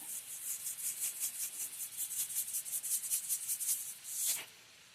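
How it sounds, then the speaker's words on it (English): Cabbage, onions and bacon stirred continuously in a frying pan, giving a rapid, rhythmic scraping and rubbing that repeats steadily at close range, then stops abruptly. "So you're basically continuously stirring this recipe as you're cooking it."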